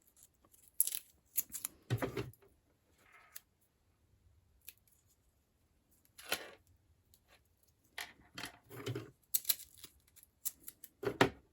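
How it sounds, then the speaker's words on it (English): Tape tears off the roll in short ripping bursts and is pressed onto a homemade wind chime, coming in irregular clusters separated by quiet pauses. "I'm just going to put a bit of tape on to hold it in place."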